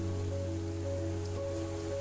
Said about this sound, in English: The sound of rain was so annoying.